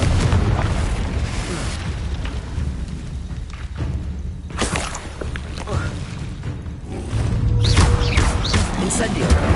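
A Confringo explosive spell goes off in Hogwarts Legacy on PS5, heavy booming blasts rolling through dense game noise, with a voice talking over the action.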